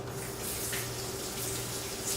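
Water from a tap runs steadily over a leek being washed in the kitchen, a close, continuous splashing hiss with no talking.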